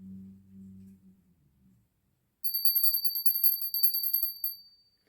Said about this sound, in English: this is how it sounds